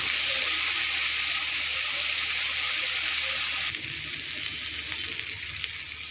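Bottle gourd peel fries in a pan with garlic, ginger and cumin paste, giving a loud, steady hiss that drops to a softer sizzle partway through.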